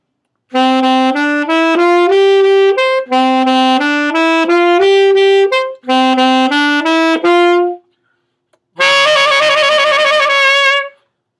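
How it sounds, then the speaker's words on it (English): A solo alto saxophone plays the alto 1 part of Rhapsody in Blue: three short rising scale-like phrases with separated notes, then a sustained held chord-like passage, loud and close. "The alto 1 part starting on A sounds a little bit like this."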